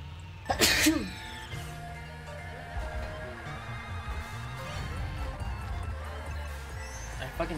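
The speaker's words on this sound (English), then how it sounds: "Fucking sneezed." One sharp, loud sneeze bursts out near the start, followed by background game music and sounds from a Mario-style kart race, with some faint murmuring later.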